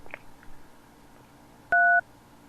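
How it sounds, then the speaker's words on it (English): A telephone keypad sounds a few faint dialing beeps, then one loud, close two-tone DTMF beep lasting about a quarter second over a quiet background. "Are you dialing another guy's number"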